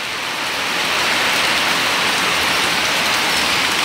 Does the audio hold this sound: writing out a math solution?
no